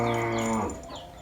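A Sonok cow gives a single loud, close moo with a steady tone that fades out in under a second, heard alone.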